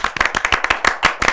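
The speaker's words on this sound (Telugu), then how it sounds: "గట్టిగా చప్పట్లు." Loud, brisk hand clapping during a Telugu film actress interview, a short rapid burst of sharp claps with no talk over it.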